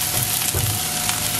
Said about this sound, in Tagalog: Gigisahin nyo na yung bawang tsaka sibuyas na magkasama.